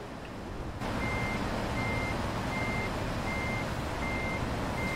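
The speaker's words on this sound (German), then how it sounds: "Bis er auch endlich mal wirklich in den Rückwärtsgang schaltet, ist auch immer so eine Sache." Truck backing up in Trucks & Trailers: a steady engine drone starts abruptly, then evenly spaced reversing beeps repeat about six times over the continuous rumble, with no voices.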